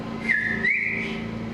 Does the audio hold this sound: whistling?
yes